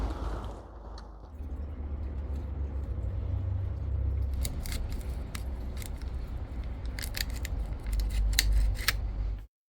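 Plastic casing of a Rover 75 electric window switchpack is prised apart with faint scraping and a run of sharp little clicks and snaps, close by over a low background hum.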